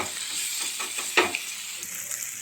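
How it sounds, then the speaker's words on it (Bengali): Chopped coriander leaves fry lightly in spice paste for a spicy puti fish curry, giving a close, steady sizzle broken by quick scraping stirs and one sharper clatter. "ধনে পাতাটাকে আমরা হালকা একটু ভেজে নেব"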